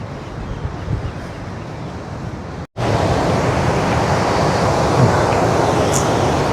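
Ocean waves and wind at Pebble Beach on California's 17-Mile Drive make a steady, loud broadband roar of surf and gusting wind, broken briefly by a short cut, with no voices.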